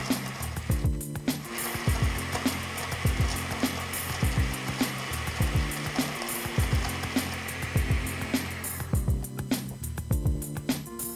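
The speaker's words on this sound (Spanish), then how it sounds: "vamos a licuar hasta que obtengamos un frozen" A blender crushing ice and sugar into a frozen mocha frappé, loud and close, with repeated rhythmic thumps and grinding pulses as the ice chunks churn, easing briefly near the end.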